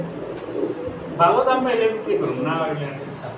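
A pair of pigeons, a flying breed, coo softly and repeatedly in a loft while someone talks over them for most of the stretch.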